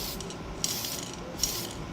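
Aerosol spray can of primer hissing in one continuous broadband spray, steady and fairly close, with two brief clicks partway through and no talking.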